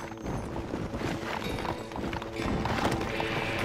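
Horses gallop in the Red Dead Redemption video game, a busy run of hoofbeats under music and game noise. The hooves are steady and fairly loud throughout, with a faint whinny.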